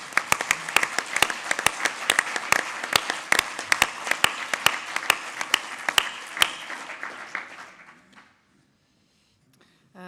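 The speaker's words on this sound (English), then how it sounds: "Can you just stand so that we can give you applause?" Applause at a Church in Wales Governing Body meeting honouring a departing member, a hall of clapping with sharp individual claps standing out, steady for about eight seconds before dying away to near silence.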